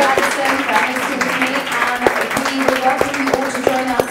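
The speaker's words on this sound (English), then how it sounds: "So if everyone give our speakers a round of applause." Audience applause for the speakers at the close of a tech meetup Q&A panel on blockchain and fashion tech, a steady wash of clapping from a room of people, fairly loud and continuous, with a few sharper individual claps standing out near the end.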